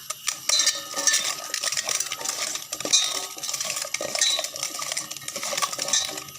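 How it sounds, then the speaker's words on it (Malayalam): Koorka, or Chinese potatoes, are stirred with powdered salt in a vessel, giving a continuous close rattle and scrape of small hard tubers against the metal sides without any talk. "ഈ കൂർക്കയിൽ ഞാൻ ഇതുപോലെ കുറച്ച് പൊടിയുപ്പ് ഇട്ടിട്ട് ഇങ്ങനെ ഇളക്കി വെക്കുകയാണ്."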